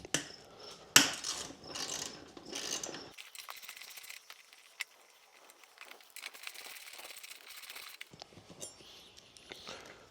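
Two 10mm bolts are ratcheted out of the front seat mount on a Honda Shadow 1100 motorcycle, giving a rapid clicking ratchet run close to the mic with a few clanks and handling noises around it.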